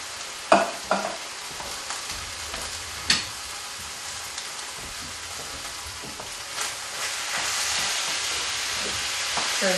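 Canned diced green chilies and petite diced tomatoes are added to browned beef in a pan: a few clanks and scrapes, then a rising, steady sizzle that holds to the end.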